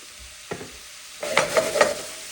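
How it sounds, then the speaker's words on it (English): Garlic butter steak bites sear in hot oil in a crowded pan, with a couple of soft knocks and then a rising crackling sizzle as they are stirred, close and brief. "I'm gonna keep stirring this up. My pan's a little overcrowded"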